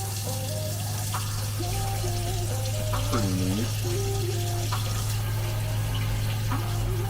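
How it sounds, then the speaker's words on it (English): Steady broadband rush of hot water pouring from a tap at high pressure on an off-grid tankless system, with a constant pump hum underneath, while a person talks briefly over it. "I thought I'd show you the water pressure that we now have"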